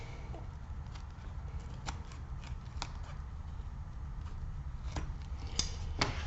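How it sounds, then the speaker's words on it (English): Scissors snip through black English bridle leather on a zippered pistol case, a few faint crisp cuts spaced irregularly over quiet room noise. "And I'll just chop it off with a pair of scissors."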